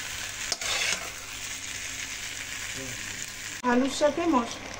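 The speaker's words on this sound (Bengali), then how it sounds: "এবার আলুগুলোকে আমি মশলার সাথে বেশ কিছুক্ষণ আবার কষিয়ে নেব।" Potatoes stir-fried with spices in a pan for a fish curry, a steady close sizzle with a few stirring scrapes, a brief knock, and then a voice speaking over the frying near the end.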